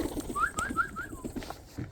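A pigeon placed inside a rabbit hutch gives a quick series of four short rising calls close by, over a low rumble of background noise.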